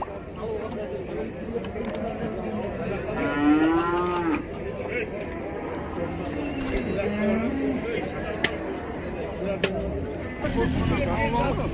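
A cow with her calf moos at a Taraz livestock market, a few drawn-out calls rising and falling over busy background chatter, with people talking and occasional vehicle noise nearby.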